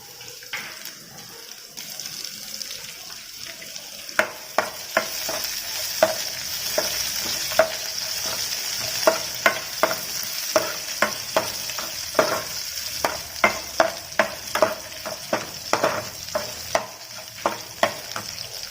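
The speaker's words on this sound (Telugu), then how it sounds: "అవి వేగుతున్నాయండి. ఇప్పుడు దాంట్లో జీలకర్ర వేసుకుందాం, ఆవాలు." Cumin and mustard seeds fry in hot oil for a potato cauliflower fry, a hissing sizzle dotted with sharp popping crackles that grow more frequent and louder as the seeds burst, close by and with no talk.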